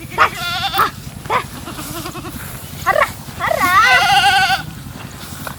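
Goats bleat several times, near and loud, with repeated wavering cries, one long bleat in the middle, over a steady rural background and a man's calls.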